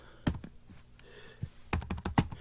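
Keys clatter on a computer keyboard during coding in Visual Studio Code, a few isolated taps followed by a quick burst of closely spaced strokes, fairly close and alone with no talk.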